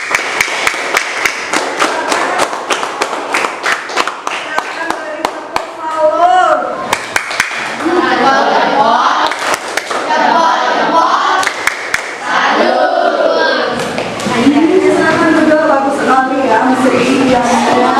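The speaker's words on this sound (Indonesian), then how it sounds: "Tepuk tangan dulu untuk kelompok 4." A classroom of students claps for group 4, with sharp, scattered claps spread across a busy room full of chatter and speaking voices.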